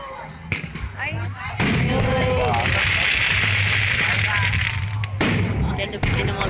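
Fireworks explode over Mall of Asia in a series of sharp booming bursts with crackling tails, loud and fairly near, while people talk excitedly throughout.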